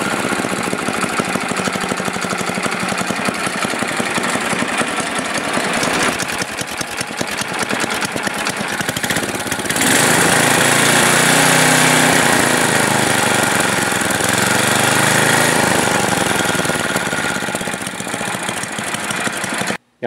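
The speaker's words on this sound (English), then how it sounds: "you're going to see an older snowblower that I've actually installed one of these carburetors on" An older Ariens snowblower engine fitted with an aftermarket non-adjustable Oregon carburetor runs steadily nearby, a loud continuous small-engine drone that rises in pitch and intensity about halfway through and holds there.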